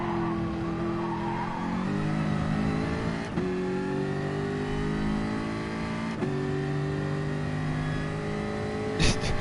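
A race car engine in GT Sport droning and revving steadily through gear changes, pitch stepping up and dropping at shifts, with a tire screech and a brief clack near the end.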